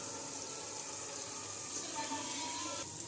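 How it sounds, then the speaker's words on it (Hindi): Water poured from a lota into a cooking pot of frying khichdi for a Hyderabadi khatta recipe, a steady splashing, gurgling stream running for a few seconds at close range. "अब इसी के अंदर 2 लोटे पानी डाल दीजिए"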